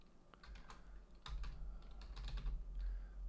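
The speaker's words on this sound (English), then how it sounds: "type some dialogue." Quiet, rapid typing on a computer keyboard, light clicking keystrokes in quick uneven bursts with no talking.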